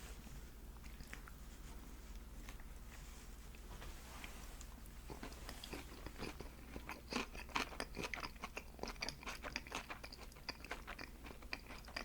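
Close, crisp crunching and chewing of spicy salmon sushi with crunchy bits, quiet at first and then a steady run of sharp bites and mouth sounds, with no talking.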